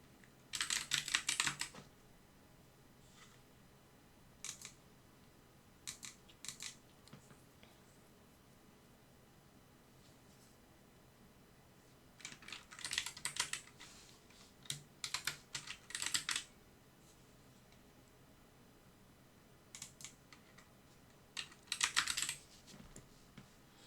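Bursts of quick, crisp keystrokes on a computer keyboard come in short clusters separated by quiet pauses, close and fairly soft, with no voices.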